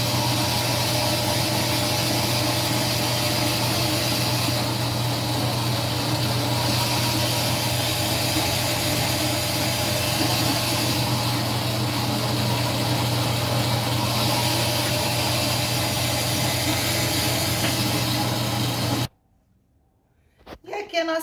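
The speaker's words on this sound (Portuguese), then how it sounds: "aqui vamos passar no cilindro até que a massa fique bem lisinha" Dough sheeter rolling bread dough for a star-shaped Christmas bread, a steady loud motor hum and rumble with faint periodic swells, running continuously before stopping abruptly near the end.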